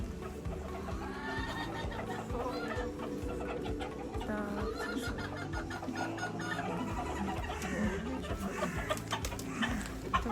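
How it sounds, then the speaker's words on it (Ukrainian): Chickens, including a silkie hen, cluck and squawk steadily amid a busy, noisy background, several birds calling at once throughout. "Курочки."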